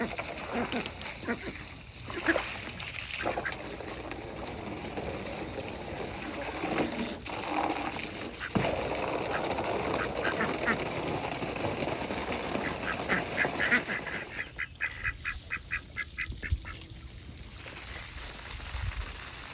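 Ducks quack on and off amid outdoor noise and splashing water, with a person talking at times and a quick run of quacks near the end.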